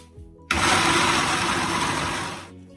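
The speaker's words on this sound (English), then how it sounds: "Now I'm gonna blend it again" A blender whirs loudly, blending beetroot and carrot with water for juice; it starts abruptly, runs steadily for about two seconds, then cuts off.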